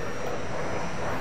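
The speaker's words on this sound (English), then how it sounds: "I got knocked out by a jet." A jet aircraft in a video game roars past in one loud, steady broadband rush lasting about a second, with no speech over it.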